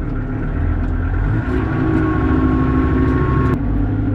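A Kubota M4900 tractor engine running on a test drive after a wheel bearing and hub replacement, a loud, steady low drone with a slight rise in the middle and no talking.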